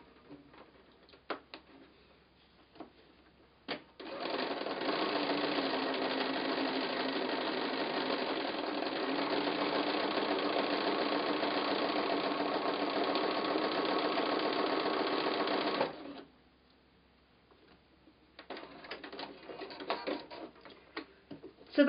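A sewing machine thread painting a fox art quilt in dark thread, with a long, steady, fast stitching run bracketed by quieter clicks and fabric handling before and after.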